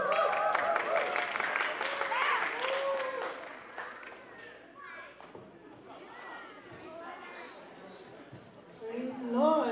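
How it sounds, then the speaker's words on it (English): A crowd at an International Night cultural performance event cheers and applauds, a loud mix of clapping, shouts and chatter that dips midway and swells again near the end, with voices mixed through it. "So join us in cheering for our friends,"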